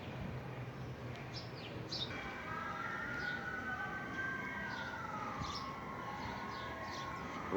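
An emergency siren wails outside at a distance, rising and falling faintly over steady outdoor ambience while birds chirp intermittently nearby.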